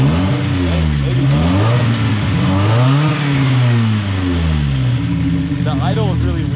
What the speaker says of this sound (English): I think it's only running off of like 2 cylinders right now.